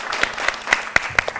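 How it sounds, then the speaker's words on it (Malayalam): Studio audience on a Malayalam TV talk show clapping for the film Perichazhi: a short run of sharp, distinct claps at a steady pace over a thin bed of lighter clapping. "നല്ലൊരു കൈയടി പെരിച്ചാഴിക്ക്"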